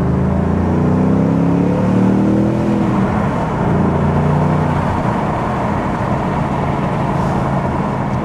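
A Ford Mustang Bullitt's 5.0 V8 rumbles steadily and close. Its pitch climbs and then drops as the engine blips itself automatically through a clutch-in shift to second gear.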